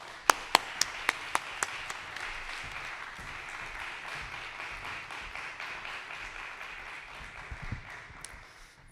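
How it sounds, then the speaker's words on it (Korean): A Korean church congregation applauds to welcome the pastor at a Sunday worship service, opening with several sharp, distinct close claps before swelling into a steady, softer wash of many hands clapping. "큰 박수로 목사님 환영해 주시면 감사하겠습니다."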